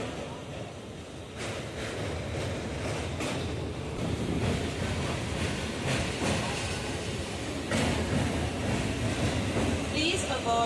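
A Howrah-Midnapore local train runs with a loud, continuous rumble and rattle heard from on board, carriage clatter pulsing steadily along with wind buffeting the microphone.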